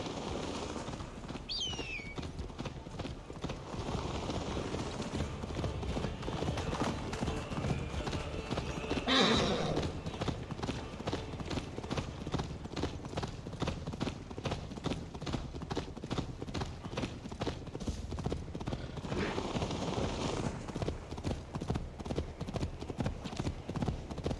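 Steady clip-clop of horse hooves trotting in a continuous rhythm in Assassin's Creed Valhalla, with a horse neighing briefly partway through and birds chirping faintly in the background.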